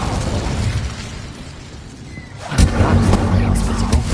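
A fire spell cast in the video game Hogwarts Legacy bursts into a loud, sudden whoosh and explosive flare about midway through, following a quieter rumbling stretch of game ambience.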